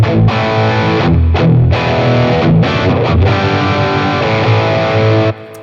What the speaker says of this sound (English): To get some really distorted sounds.